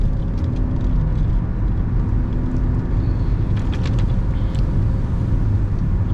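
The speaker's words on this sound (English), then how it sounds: "now I signal my intention, and I build up speed" A car picks up speed while merging onto the road, a steady loud engine and road rumble filling the cabin throughout with no change in level.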